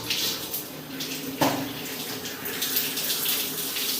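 Water runs from the hot tap of a single point water heater, a steady close hiss and splash into a basin, with a brief knock partway through.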